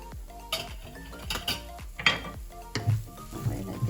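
A metal spoon scrapes and clinks against a pot of goat feet broth with coriander and cumin powder, with several sharp taps and rattles spaced irregularly, close and fairly quiet with no voices.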